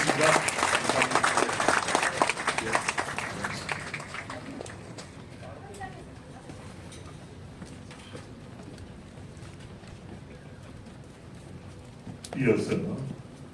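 An audience claps at a church museum opening ceremony, a warm burst of applause that fades after a few seconds into quiet room sound, with a brief voice near the end.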